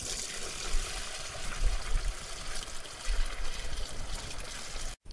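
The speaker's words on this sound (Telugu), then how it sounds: "ఇట్లా పంపలో పోసుకొని మనం పంటకు పిచికారి చేసుకోవాలి" Liquid herbal spray mixture steadily pouring and trickling into a farm sprayer pump tank outdoors, a continuous watery splash lasting several seconds with faint background noise and no talk.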